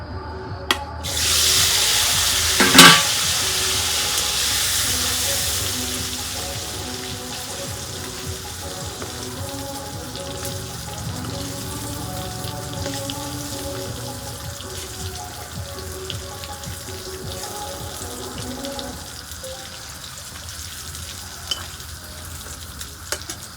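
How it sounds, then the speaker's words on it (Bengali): Eggs sizzle and fry in a pan for a home-style egg curry, a loud burst of hissing at the start settling into a steady crackle that carries on throughout, with some clatter but no talking. "এখন আমি ডিমগুলা প্রথমে বাইজে নিই"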